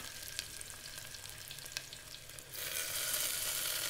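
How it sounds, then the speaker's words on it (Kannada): Onion and fenugreek leaves frying in a pan sizzle softly under a few light utensil taps, then the hiss swells suddenly into a louder, fuller crackle that holds steady to the end. "ಈರುಳ್ಳಿ, ಈರುಳ್ಳಿ ಮಿಕ್ಸ್ ಮಾಡಿಕೊಂಡು ಜೊತೆಯೆಲ್ಲ ಮೆಂತ್ಯ ಸೊಪ್ಪು ಹಾಕಿ ಫ್ರೈ ಮಾಡೋಣ 1-2 ನಿಮಿಷ"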